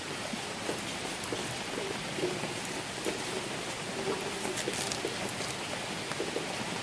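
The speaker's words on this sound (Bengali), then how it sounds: "সারাদিন বৃষ্টি হচ্ছে বন্ধুরা, পুরো ভিজে গেছি" Steady rain falls throughout on a rainy day, a dense even hiss of drops on surfaces with no break, moderately loud and unaccompanied by talk.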